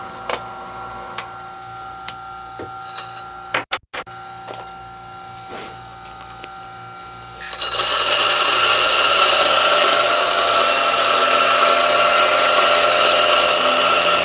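A Turin DF64P coffee grinder grinds coffee beans, its loud steady whir starting about halfway through after some quiet handling clicks and knocks, then running continuously to the end.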